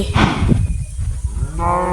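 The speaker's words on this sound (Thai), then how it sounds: "ก็ให้อาหารวัวสักหน่อย" Minecraft cows low loudly in a farm pen, with one moo at the start and another overlapping call near the end, over a constant background hum from the game.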